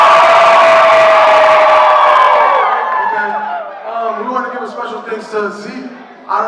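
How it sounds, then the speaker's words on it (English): A crowd at a creators' evening event screams at full volume for about three seconds, then the roar fades, leaving scattered shouts and voices. "scream on top of your lungs on the count of 3"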